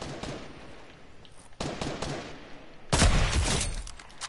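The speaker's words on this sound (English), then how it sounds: "Me not see people, but I hear the shooting." Gunfire from submachine guns in a Fortnite match, heard as dense, noisy bursts of rapid shots that come in three clusters, the last and loudest starting partway through, with no talking.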